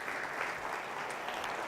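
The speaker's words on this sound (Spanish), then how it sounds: "Por favor, lo recibimos también con un fuerte aplauso." Audience applause at an insurance industry conference on blockchain greets an incoming speaker, a soft, even spatter of many hands heard from a distance.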